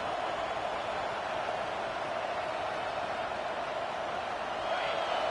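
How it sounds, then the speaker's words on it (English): A large crowd roars steadily at a distance at a Clemson vs Penn State game, a dense, unbroken wash of cheering noise that swells slightly near the end. "Listen to the crowd energy here in the early going."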